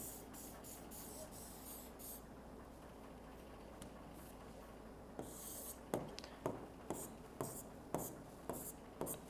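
Marker strokes on a board, a quiet stretch of squeaky, hissing writing at first, then a run of short rhythmic taps and strokes, close and fairly faint over a low background hum.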